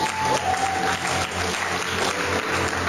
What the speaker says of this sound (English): you can clap better